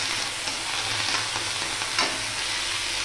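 Radish leaves, radish, garlic and green chili fry in a pan with a continuous soft sizzle, broken now and then by the scrape of a stirring spoon.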